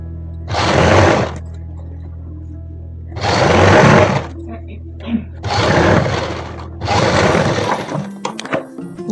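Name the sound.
sewing machine stitching a suit fabric strip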